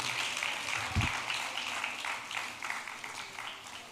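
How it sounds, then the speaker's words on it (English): An audience claps for a woman flag bearer at a West African women's political leadership forum, a steady moderate round of applause from a crowd with no talking. "Please, a round of applause to her. Our flag bearer. Everybody clap for the flag bearer."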